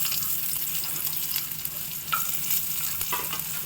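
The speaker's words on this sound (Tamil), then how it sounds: "பீன்ஸ் பொரியலுக்கு வெங்காயம் போட்டிருக்கேன்" Onions frying in oil in a pan for beans poriyal, a steady close sizzle with occasional stirring scrapes throughout.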